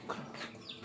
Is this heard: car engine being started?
no